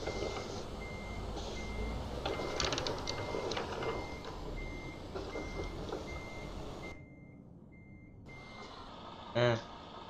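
Truck reversing alarm in Euro Truck Simulator 2 at night, a steady series of evenly spaced beeps over engine rumble, briefly dropping out near the end before a short louder blip.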